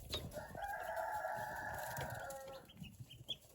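Young Cornish Cross meat-bird chicks outdoors give a sustained, fairly faint chirping call for about two seconds, followed by softer scattered peeps and light rustling, with no talking.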